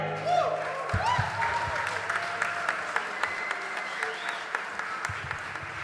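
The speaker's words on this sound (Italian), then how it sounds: "Facciamo un applauso a Gesù" A church congregation at a worship service applauds after a gospel song, a full, steady crowd clapping with a few sharper claps on top, while voices and some tonal sound carry underneath.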